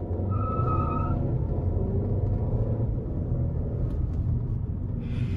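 A Volkswagen Jetta TSI accelerates at half throttle on a city street, giving a loud, steady engine rumble that holds close and continuous throughout, with no talk.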